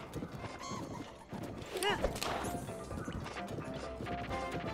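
Horse hooves clip-clop in Zelda: Breath of the Wild in the snowy Hebra mountains, a steady trotting rhythm with a brief whinny-like sweep partway through, heard under a player talking.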